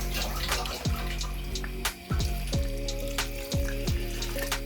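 Water added from a tap or jug into a pan of chicken xacutti curry, a steady splashing flow with a few rising gurgles and clinks, close and fairly loud, no talking.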